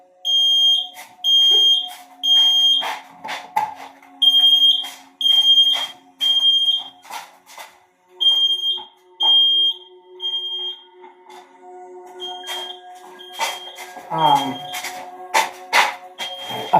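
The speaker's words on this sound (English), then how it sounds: "I forgot I was burning incense and I put it right next to my fire alarm." A smoke alarm shrills in repeated loud electronic beeps after burning incense was left right beside it, the chirps coming in steady bursts over roughly sixteen seconds with a clattering, mixed household din building near the end.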